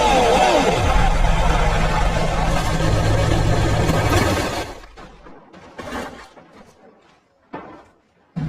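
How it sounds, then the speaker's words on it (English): A Porsche 911 GT engine roars loudly and continuously for about four seconds, then cuts off abruptly, leaving quieter scattered knocks and faint background noise. "Porsche 911 GT."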